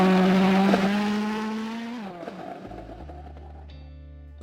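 A Ford RS200 Group B rally car engine revs loudly and then drops off in pitch as it fades, followed by a lower, steadier tone near the end.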